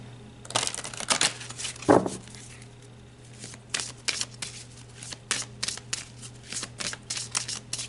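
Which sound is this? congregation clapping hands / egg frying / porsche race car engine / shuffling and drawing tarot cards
shuffling and drawing tarot cards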